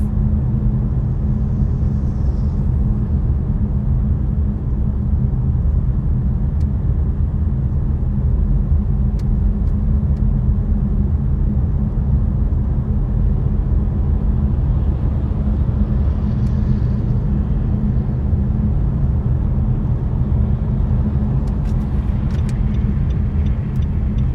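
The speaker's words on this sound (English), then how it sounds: "This Yandex Drive car was just right next to where I live." Steady engine and road rumble inside a Yandex Drive car-sharing car moving through St Petersburg's Central District on a Sunday morning, a continuous low drone with faint ticks and no talking.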